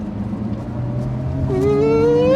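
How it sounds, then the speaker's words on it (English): A 2021 Lotus Evora GT's supercharged V6 is pulled hard in third gear: a steady engine drone first, then a rising rev climbs loudly and smoothly in pitch through the final second, with no talking. "It is one of the best sounding V6s that exists. And there's just a whiff of supercharger noise, right?"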